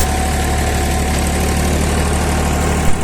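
A tractor stands idling in a sugarcane field during planting, its engine a steady, loud, low droning rumble with a constant hum and no break, and no one talking.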